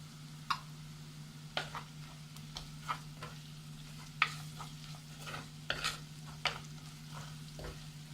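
Turmeric and garam masala being sautéed in a pan for beef vindaloo, a quiet low sizzle with intermittent scraping stirs from a spoon every second or so, no talking.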